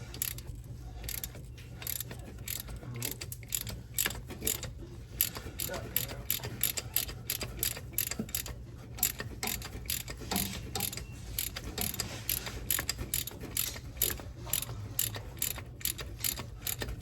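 Ratchet wrench clicking steadily as it backs out a bolt on a 7.3 diesel exhaust manifold, dense rapid ratchet ticks running throughout over a low steady hum, close up and fairly quiet.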